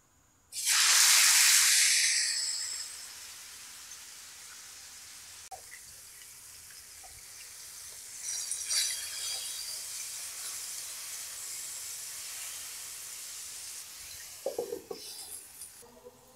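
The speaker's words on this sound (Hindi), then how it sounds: "थोड़ा सा कुकिंग ऑयल डालेंगे।" Cooking oil hits a hot pan for a beef steak with a loud burst of hissing sizzle that quickly fades to a softer, steady crackle, with a few scraping knocks near the end.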